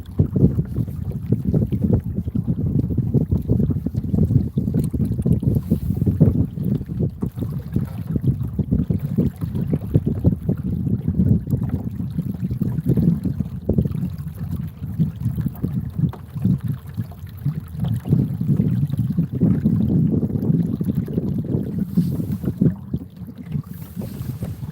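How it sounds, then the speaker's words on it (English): Steady wind roars across the microphone on a small boat drifting near shore on trout water, a continuous loud rumble with water movement underneath and no talking. "the wind's blowing me right up there on shore"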